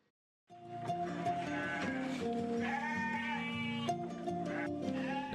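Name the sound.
goats and sheep bleating on a farm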